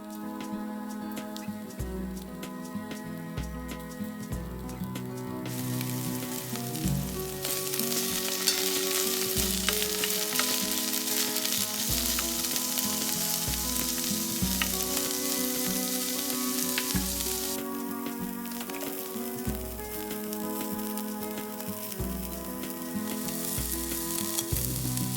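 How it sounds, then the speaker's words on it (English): Peppers frying in hot olive oil in a pot, a steady soft sizzle that swells louder partway through, heard faintly beneath background music playing throughout, with no speech. "Once the oil is hot, carefully add the peppers and allow to cook for 4 to 5 minutes."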